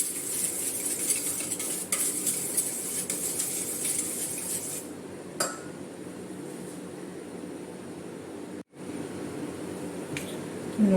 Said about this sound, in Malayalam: നന്നായിട്ട് ഒന്ന് ബീറ്റ് ചെയ്തെടുക്കാം